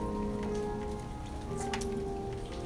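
Steady rain falls on a garden, a dense continuous patter of drops on wet surfaces and leaves, close and even throughout with no talking.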